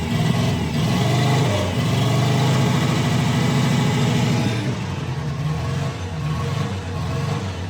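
A Subaru Sambar's small engine runs rough just after starting, idling close and loud with an uneven, lumpy throb that shifts and wavers partway through.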